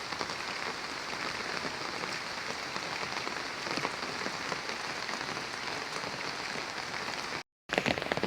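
Steady rain pours down on a Bangladeshi village with rice fields, a dense, even hiss of drops on surfaces that runs on without a break except for a brief dropout near the end.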